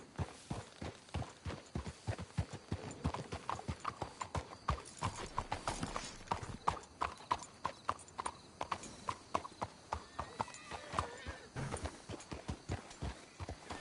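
Horse hooves clip-clop at a steady walking pace in Red Dead Redemption 2, a regular series of close, crisp hoof strikes lasting throughout, with a brief snort or whinny in the background.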